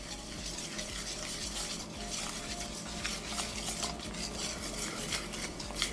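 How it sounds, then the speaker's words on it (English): Thick flour-and-water batter for coating cauliflower is stirred in a bowl, giving a steady, continuous close-up scraping and clinking of utensil against the bowl for several seconds, with no voices. "we're going to go ahead and mix this up."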